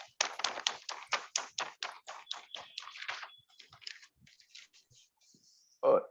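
Applause at a Kolkata Toastmasters Club meeting: a burst of brisk hand claps that quickly thins into scattered, fading claps, ending with a short louder blip.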